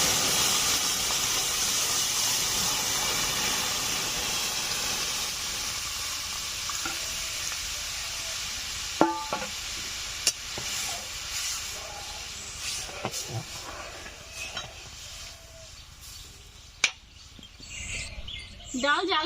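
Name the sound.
lentils (mung dal) cooking in a pan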